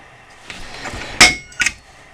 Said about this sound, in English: I'm just going to center punch it with my handy little tool here.